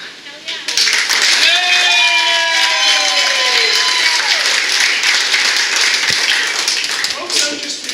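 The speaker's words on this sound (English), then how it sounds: "we need a round of applause for Matt." Audience at a neighborhood district council meeting breaks into steady applause with some whoops and cheers, sustained for several seconds at close range, with voices mixed into the crowd noise.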